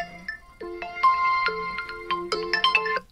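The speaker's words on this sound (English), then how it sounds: "And you see it's ringing." A Motorola Edge 40 Pro smartphone rings with an incoming call, a clear melodic electronic ringtone of bright chiming notes in a rising pattern, close and alone.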